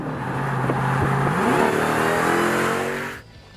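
A 2018 Jeep Grand Cherokee Trackhawk SUV engine revs hard under acceleration, pitch climbing steadily for about three seconds, loud and close, then cuts off abruptly.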